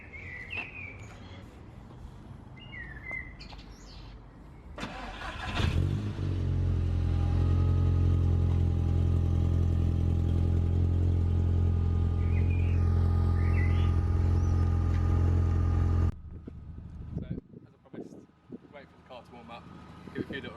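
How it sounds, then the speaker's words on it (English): A car with a Toyo downpipe and decat exhaust cold-starts nearby, catching with a burst and settling into a loud, steady, deep high idle for about ten seconds before cutting off; faint birdsong surrounds it. "I'll give it a little cold start now, just so you guys can hear"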